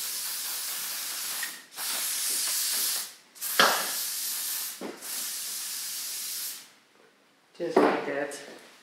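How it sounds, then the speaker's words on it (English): Hairspray hissing from an aerosol can onto a standard poodle's coat during grooming, several long, steady sprays with short pauses between them, followed by brief handling noise. "Maybe I will put some more hairspray in."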